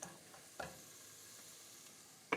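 Faint, steady sizzling of food frying in a pan, with a couple of sharp scrapes and taps as it is stirred.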